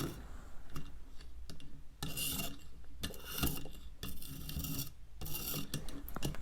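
Rasping strokes of a sharpening tool across a serrated bread knife, steady scraping passes repeating close by with brief pauses between bursts, no talking.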